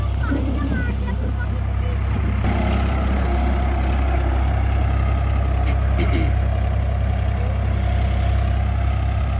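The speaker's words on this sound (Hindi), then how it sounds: "भाई ये बड़ा ट्रैक्टर है, बढ़िया काम कर रहा है।" A New Holland 3630 tractor engine runs at a steady low rumble close by, and someone talks over it.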